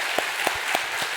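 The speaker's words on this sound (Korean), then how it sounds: "네, 그렇게 생각하는 만큼만 박수를 하세요." A church congregation at a Sunday service applauding, a short burst of about four rhythmic group claps, close and fairly loud.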